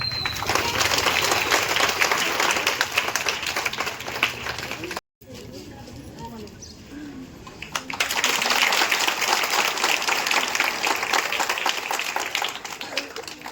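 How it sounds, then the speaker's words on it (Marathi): An Independence Day school event with a crowd clapping steadily to welcome a student, followed by a quieter stretch where a voice speaks, then another burst of sustained applause. "तिथं आपण सगळ्यांनी एकदा टाळ्या स्वागत करूया"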